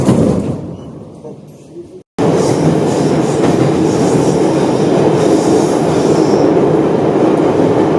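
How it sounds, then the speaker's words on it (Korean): A Moscow metro train runs between stations, a loud, steady roar of wheels and carriage rumble filling the car after a brief quieter stretch and a sudden cut at the start. "Осторожно, двери закрываются. Следующая станция – Кропоткинская."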